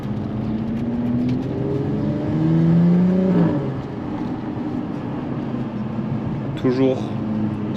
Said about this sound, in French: Toujours sonorité magnifique, surtout avec cet échappement sport en valve ouverte.